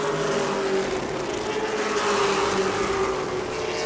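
Race cars roar past on the New Smyrna track during a World Series event, a loud, sustained engine drone with a steady pitch line and a crowd-of-engines wash behind it, with no talk.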